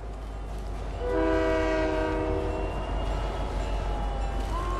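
A train in the Fortnite video game sounds a long, loud multi-tone horn that holds steady for about two seconds over a constant low rumble of rolling cars, with no talking.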